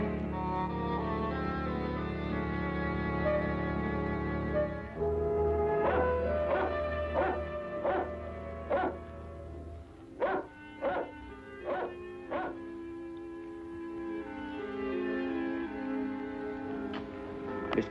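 A collie dog barks in a series of sharp, evenly spaced yaps, several in a row, then another run after a pause, set against a low musical background.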